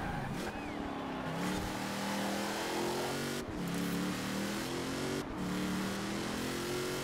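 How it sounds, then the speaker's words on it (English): Upgraded V12 race cars roaring in Forza Horizon 4, a continuous revving engine drone with gear-shift dips, mid-distance and fairly quiet. "I can just hear a bunch of upgraded V12s back behind me."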